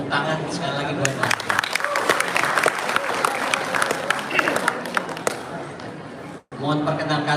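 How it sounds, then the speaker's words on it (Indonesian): Audience applause for Anies Baswedan at a student discussion event, a dense wash of clapping with crowd voices mixed in, holding steady for several seconds before a brief break and a short return. "Tepuk tangan sekali lagi buat Pak."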